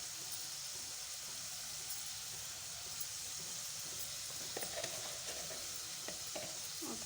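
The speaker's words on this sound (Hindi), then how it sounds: "इसको अच्छी तरह से मिक्स कर लेंगे" Spices with turmeric and red chilli being mixed in a pan for macaroni, a soft steady sizzle with light scraping and tapping of a stirring spoon growing busier toward the end, faint and close, no voices.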